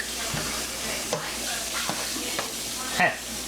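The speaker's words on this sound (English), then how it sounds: "Give it a good stir." Bacon spaghetti with celery and garlic is stirred in a frying pan, giving a steady close sizzle with occasional scraping knocks of the utensil against the pan.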